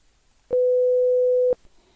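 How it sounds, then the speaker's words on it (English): A single pure, steady 500 hertz sine wave tone sounds for about a second, clean and unwavering, with silence before and after. "So this is the sine wave"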